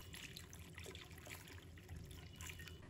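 Dried shiitake mushrooms are rinsed in water, with faint trickling and gentle splashing close by in a kitchen and no speech.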